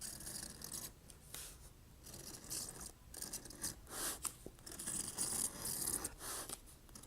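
A CS Osborne scratch compass scores a border groove about 1/8 inch in from the edge of leather, giving a quiet, continuous dry scraping and rasping with small uneven scuffs.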